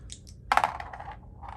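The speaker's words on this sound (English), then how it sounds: "they're all rolling 2 dice to move and such." Two dice tumble across a tabletop during a HeroQuest board game, a short burst of bright clattering clicks that quickly rattle to a stop, heard up close.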